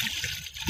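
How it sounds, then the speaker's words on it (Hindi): Water pours into drums, filling them in a short steady trickling stream with a brief splashy swell at the end, close and alone with no voices. "अब हम इन ड्रमों में पानी को भर लेते हैं।"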